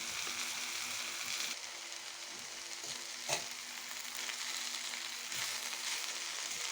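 Bitter gourd pieces fry in oil in a pan for a curry, giving a steady, close sizzle with light crackle and one brief sharp clatter, no talking.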